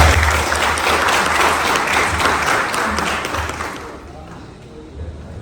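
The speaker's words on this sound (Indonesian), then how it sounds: "Tepuk tangan." Audience applause at a gathering during a visit to an Indonesian bus company garage, a dense steady clapping from a group that holds for about four seconds before thinning and fading out.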